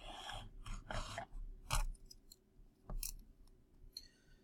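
Calculator keys being pressed to enter a math expression, a series of quiet clicks and taps in an otherwise quiet room with faint background noise.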